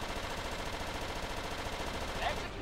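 Continuous rapid machine-gun fire from a WWII fighter plane in the flight combat game Blazing Angels: Squadrons of WWII runs steadily the whole time, close and dense over engine drone.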